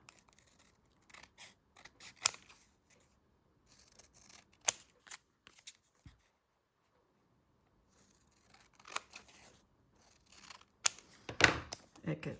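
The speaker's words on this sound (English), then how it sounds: "Now I can cut around the edge." Scissors snip around the edge of a tiny paperback book in several separate bursts of short cutting and rustling sounds, with quiet gaps between them and no voice heard.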